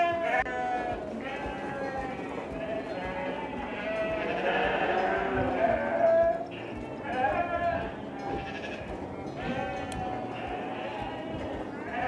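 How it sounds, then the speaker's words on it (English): Sheep bleat repeatedly while feeding outdoors, several calls overlapping at close to mid range over a steady background, with a faint voice at times. "while the sheep are busy feeding"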